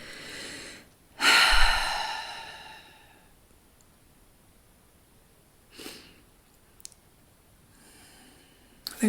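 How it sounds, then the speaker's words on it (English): During a meditation pause a single deep breath is drawn in close and loud, then fades, leaving near silence broken by a few faint, soft breathing sounds. "So let's take a breath"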